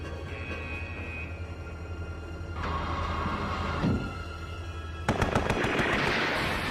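Gunfire from a gun emplacement in an animated film, a loud burst of rapid shots breaking out near the end over a steady rumbling, tense soundtrack.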